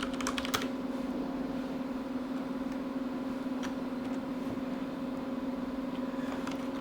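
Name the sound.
typing a password on a computer keyboard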